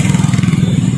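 A motorcycle crosses a road outside a resort, its low engine drone rumbling steadily and fairly close for about a second.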